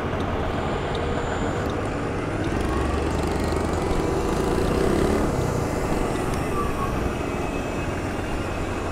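A 2009 SYM Symba motorcycle engine drones steadily while riding through evening city streets, a loud, continuous rumble mixed with broadband wind and road noise.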